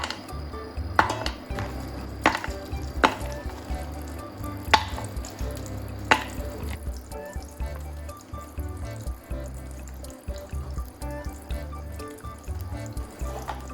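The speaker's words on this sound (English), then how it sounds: "I keep stirring gently to help the pieces dissolve evenly" Candle wax pieces being stirred as they melt in a heat-safe container, giving repeated light scraping and clinking taps against the container sides over a soft bubbling, liquid background, close and steady with no talk.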